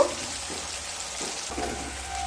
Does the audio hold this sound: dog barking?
no